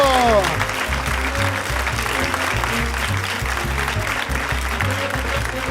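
A comedy show audience gives loud, continuous applause to welcome a jury member, with steady clapping throughout and music playing underneath.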